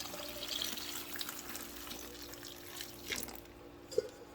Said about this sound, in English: I'm pouring the water in.